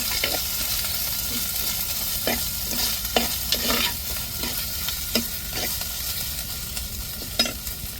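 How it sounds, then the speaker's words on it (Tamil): Ginger-garlic paste, stone-ground, being stirred and sautéed in hot tempering oil with onions, giving a steady sizzle with repeated spatula scrapes against the pan, close and continuous with no talking. "இப்போ இஞ்சி பூண்டு அம்மியில் அரைச்சதை சேர்த்துக்கிடுவோம் நல்லா தாளிப்பில் வதக்கி விட்ருவோம்"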